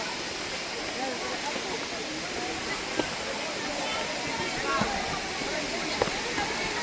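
Steady rushing roar of the Budhar waterfall, a continuous broad wash of falling water heard from nearby, with a few faint clicks and a voice now and then over it.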